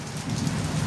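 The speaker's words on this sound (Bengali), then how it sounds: "কত দারুণ বৃষ্টি এসে গেছে" Heavy rain falling, a dense continuous hiss of drops hitting surfaces outdoors, loud and unbroken, with no voices.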